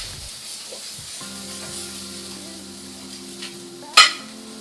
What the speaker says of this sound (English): we're left cooking the mushrooms